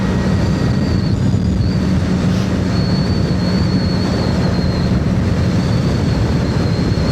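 QJ SRK 250 twin-cylinder motorcycle engine with a 360-degree crank, riding in rain, gives a steady, loud, close droning rumble with no rise or fall throughout and no voices.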